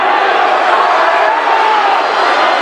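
A wrestling crowd at a boys high school dual meet cheers on its feet, a dense, steady roar of shouting voices filling the gym without a break, loud and close.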